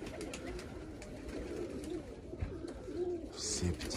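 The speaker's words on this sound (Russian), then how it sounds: "Эти воркуют." Pigeons coo softly among a flock circling around a dovecote, the low murmuring cooing steady and moderately close under wind and background noise.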